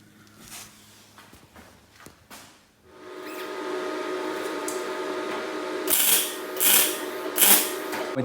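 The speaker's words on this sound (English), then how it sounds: "So now I'm gonna weld it all together." Welding a nose panel onto a BMW 2002: a few short sharp bursts at first, then a sustained buzzing weld with crackling surges near the end, close and fairly loud, no talk.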